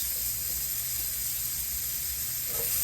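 Chopped onion sweating in a hot pan, a steady close sizzle and hiss that continues without a break for a few seconds. No one speaks.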